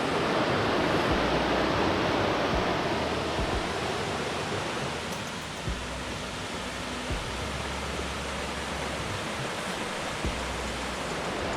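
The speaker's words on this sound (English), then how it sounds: "So far we've been hiking along this creek" A creek flows beside the Alum Cave Trail in Great Smoky Mountains National Park, a steady, broad rushing of water that holds even and unbroken from start to finish, close by and fairly loud.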